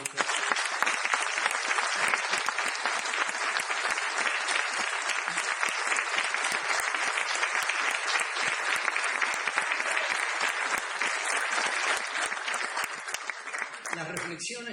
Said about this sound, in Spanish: les pido a ustedes que les demos un caluroso aplauso